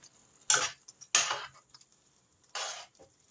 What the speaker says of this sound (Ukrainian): все гарненько розмішую